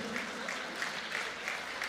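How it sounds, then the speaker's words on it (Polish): Applause for the winner of a WOTORE 1 fight tournament bout, a steady wash of clapping from the crowd lasting about two seconds with faint rhythmic peaks. "Gorące brawa dla zwycięzcy!"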